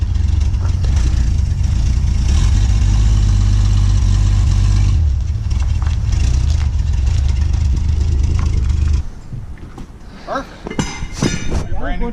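A 1950 Chevy's engine running as the old car rolls under its own power, a loud rumbling drone for about nine seconds that then drops to a quieter idle while people talk excitedly.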